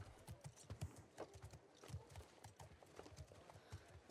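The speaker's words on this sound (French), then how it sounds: "Ça, c'est un bon cheval." Steady clip-clop of horse hooves trotting at an even rhythm in the video game The Last of Us Part II, fairly faint and continuous.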